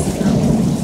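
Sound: thunder during a lightning storm

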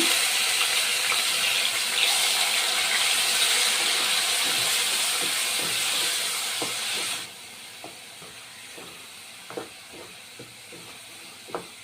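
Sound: green chili and onion paste frying in oil

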